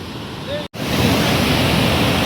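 A dense, constant roar of rushing water from the Bhivtas waterfall in Surgana taluka fills the scene, broken by one brief dropout near the start.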